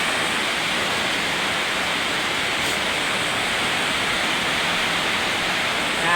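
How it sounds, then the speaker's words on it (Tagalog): Very heavy rain pours down in Dasmariñas, Cavite, a dense, unbroken roar of hissing water that stays loud and even throughout, with no voices. "Ayan, napakalakas ng ulan."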